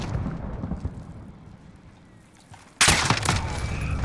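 Gunfire from a FAL rifle in a first-person shooter game cracks out in a sudden loud burst after a quieter stretch, with a few rapid follow-up shots ringing on.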